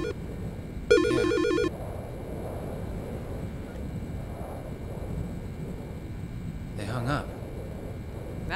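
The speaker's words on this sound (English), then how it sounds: "You gonna answer your phone?" A telephone ringing in the video game Silent Hill: Shattered Memories, one loud electronic trilling ring burst near the start, over windy storm ambience, with a person speaking briefly later.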